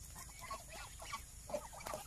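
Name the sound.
geese calling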